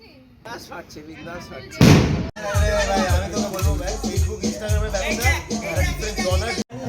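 Firecrackers bursting during a New Year's Eve night celebration, loud booms and pops from nearby, under lively talk from people close to the recording.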